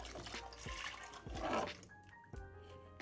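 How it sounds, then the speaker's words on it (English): Two cups of milk are poured into a mac and cheese mixture, a brief close liquid splash and gurgle lasting a few seconds. "I'm gonna add in 2 cups of milk"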